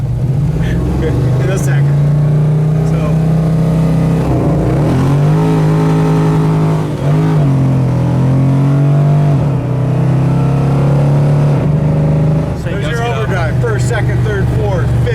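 A 1970 GTO with a 454 dual-quad V8 rumbles loudly and steadily throughout, its deep idle note swelling into revs near the middle and end, with someone talking over the engine the whole time.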